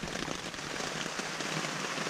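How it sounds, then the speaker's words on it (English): Dense, steady patter of a rainstorm drumming on the fabric of a tent, heard from inside as a close, constant hiss with no voices. "This is the inside of my tent. This is what it sounds like in a rainstorm."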